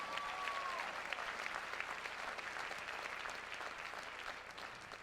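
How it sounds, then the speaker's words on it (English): Audience applause at a presidential inauguration, a steady wash of clapping held at an even level throughout with no break, slowly easing toward the end. "we can give him a round of applause"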